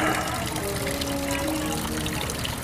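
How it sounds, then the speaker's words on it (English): Water pours and trickles steadily out of a large hole in the hull of a salvaged boat with red bottom paint, a continuous, close splashing flow. "Draining water already."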